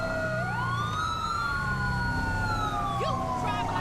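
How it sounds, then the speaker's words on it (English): Police car dual siren in GTA 5, two wailing tones sweeping up and down together, loud and continuous throughout over a steady engine rumble, with a brief chirp near the end. "Let's go ahead and do a dual siren here."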